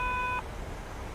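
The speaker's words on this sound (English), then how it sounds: "The double beep you just heard right now is the cabin crew giving us the signal that the cabin is secured for landing." An electronic cabin crew chime sounds in a Boeing 737 cockpit simulator: a clear, steady tone lasting under half a second over a low cockpit hum that continues afterward.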